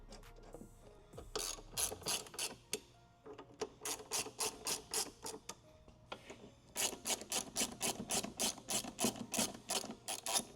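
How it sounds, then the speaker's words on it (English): A 5mm Allen key ratchets screws tight on a tire carrier mount, rapid clicking bursts in repeated strokes close up, with short pauses between sets. "Once they're all started, I'll tighten them down."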